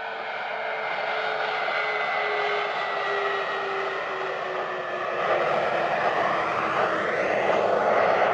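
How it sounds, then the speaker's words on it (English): Space Shuttle Endeavour touching down on runway 15 at the Kennedy Space Center Shuttle Landing Facility: a steady, loud aircraft-like roar with a descending tonal whine that swells slightly toward the end. "Space Shuttle Endeavour touching down at Kennedy Space Center on time at 1:35 a.m. Central Time, 2:35 a.m. Eastern."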